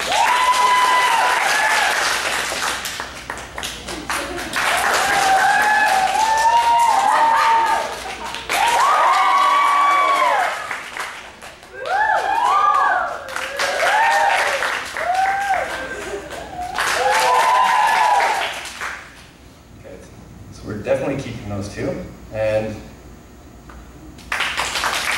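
Audience at a live hypnosis show for a post-prom after-grad event breaks into several loud bursts of applause and cheering, separated by brief lulls with a voice speaking between them.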